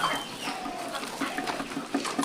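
Chickens on a poultry farm in Rajapur cluck in a busy, continuous chorus of short repeated calls, moderately close, with no talk over them.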